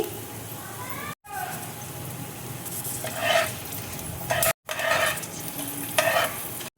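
Coriander and cumin seeds dry-roast in a pan for South Indian gun powder. Scraping stirs and light rattling repeat over a low sizzle, with a couple of brief cut-offs and faint background sounds.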